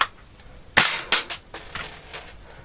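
A chrome Tokyo Marui Desert Eagle .50AE gas airsoft pistol fires, one sharp crack followed by several quicker, softer snapping pops, close and loud with quiet gaps between.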